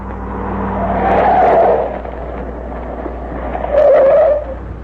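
A truck engine in an old-time radio narcotics drama swells up close twice, rising to a loud rumble around two seconds in and again near the end, with a tire-squeal edge over a steady low hum.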